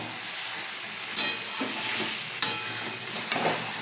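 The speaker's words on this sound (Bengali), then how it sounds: "মাংসটা দিয়ে এবার ভালো করে মিশিয়ে দেবো," Meat stirred into spices frying in a pan, a continuous close sizzle with a few scraping stirs of a spoon against the pan.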